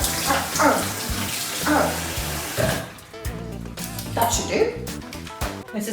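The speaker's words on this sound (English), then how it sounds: "I'm going to rinse this cucumber very thoroughly because we'll be eating it raw" Tap water streams steadily over a cucumber being rinsed thoroughly in a kitchen sink, with a voice talking over the close, continuous splash.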